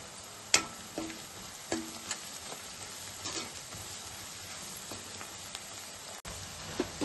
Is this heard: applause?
no